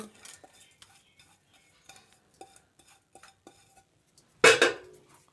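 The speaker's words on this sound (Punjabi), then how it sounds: "ਇਹਨੂੰ ਕਰ ਦਾਂਗੇ ਚੰਗੀ ਤਰ੍ਹਾਂ ਮਿਕਸ" A spoon stirs panjiri of desi ghee, flour and shakkar in a pan, with soft scraping strokes in an uneven rhythm, then a louder clattering burst of stirring near the end.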